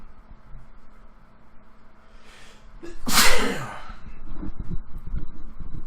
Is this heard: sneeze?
yes